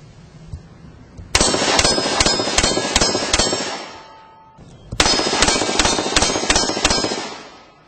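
Gunshots fired at targets during shooting practice, two loud bursts of rapid sharp cracks in quick succession, each string lasting a few seconds with a brief pause between them.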